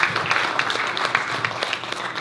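Audience applause at a Korean town hall meeting on sustainable development, a dense, steady wash of many hands clapping at moderate loudness for about two seconds with no speech over it.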